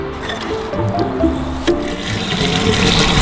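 Water gushes steadily into a canal boat's tank at a water point on a canal in Wales, a loud continuous rush with sloshing and a brief knock partway through.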